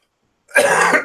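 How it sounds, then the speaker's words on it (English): A single burst of coughing and throat clearing, set off by lacquer fumes while working on a model kit, loud and close after a brief silence. "Excuse me coughing, but this lacquer stuff catches your throat a bit."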